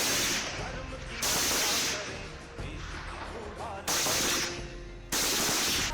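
Gunfire on an Indian Army firing range during Bhairav commando training, with several loud bursts of shots coming in bands and separated by quieter stretches of crackle and echo, close and harsh.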